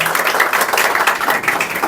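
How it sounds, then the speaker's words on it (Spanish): Applause for guest Amparo Pérez on a Spanish-language television program, a dense, steady wash of many hands clapping at close range that fills the whole moment without a break. "Un aplauso fuerte para Amparo."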